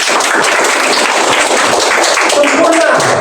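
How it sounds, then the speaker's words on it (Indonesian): An audience at a school lesson claps steadily, a dense and continuous patter of applause filling the whole stretch with no gaps. "Beri tepuk tangan."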